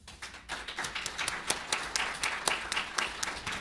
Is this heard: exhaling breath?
no